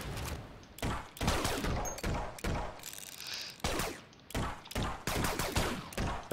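Rapid bursts of video-game gunfire in the Hyper Tower shooter, level 1 Silk Road, with loud repeated volleys and sharp shots in an uneven rhythm, close and dense, with no talking.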